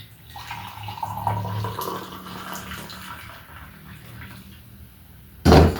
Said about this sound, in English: pouring our hot tea, our hot African tea from a flask